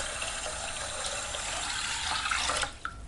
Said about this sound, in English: I'm going to cover them with just some filtered water.